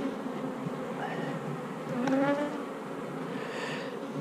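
Honeybees buzz steadily from a hive colony packed with pollen during a frame inspection, a close, continuous insect drone with a few louder whirs as individual bees fly past.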